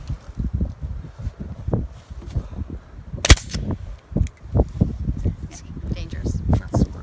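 A pneumatic staple gun powered by an air compressor fires a single sharp, close crack outdoors while setting up a new garden, with people talking and wind noise around it.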